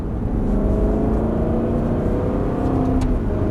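Aston Martin accelerating hard on a race circuit, the engine note climbing steadily and loud from inside the car, with no talking.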